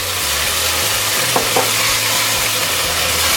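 Tomato cooking down in ghee in a pan, a continuous even sizzle with a couple of faint ticks partway through, close and steady with no voices.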